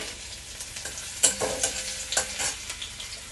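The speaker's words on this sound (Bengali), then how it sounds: "তো তেল আমার গরম হয়ে গেছে। এবারে আমি এর মধ্যে আদা একটুখানি ছেঁচিয়ে রেখেছিলাম আর লঙ্কা দিয়ে দিলাম।" Crushed ginger and green chili fry in hot oil with a steady sizzle, broken by stirring scrapes and small crackling bursts at close range.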